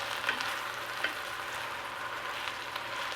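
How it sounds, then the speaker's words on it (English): Onions sautéing in a pot, a soft steady sizzle with faint crackles and a few light stirring clicks, quiet and close with no talking. "Now we let the onions saute just a little bit"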